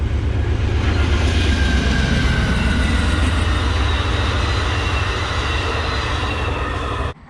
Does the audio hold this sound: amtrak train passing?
yes